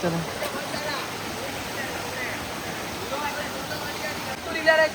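A stream runs near the Chander waterfall, making a steady broadband rush of flowing water at moderate level with faint voices mixed in.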